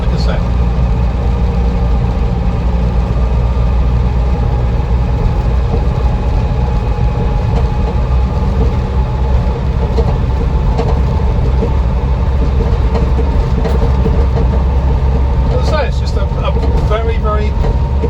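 1976 Land Rover Series III 109 pickup engine idling, a steady loud low rumble that holds throughout, close by, with a few light clicks near the end.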